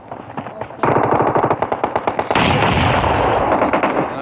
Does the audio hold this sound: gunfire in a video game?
yes